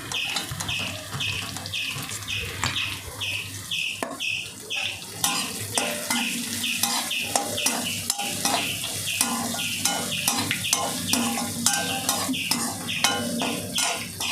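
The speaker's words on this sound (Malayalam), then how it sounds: "ഇനി അതിലേക്ക് നമ്മൾ അരിഞ്ഞ് വെച്ചിട്ടുള്ള സവോള ഇട്ട് കൊടുക്കുകയാണ്." Chopped onions tumble into a hot pan for a vegetable masala idli and sauté, giving a steady close sizzle with rhythmic scraping and stirring clinks throughout, no voices.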